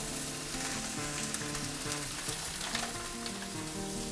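Sausages fry on low heat in a pan with cheese laid over them to melt, giving a steady, loud, close sizzle and crackle that holds without a break.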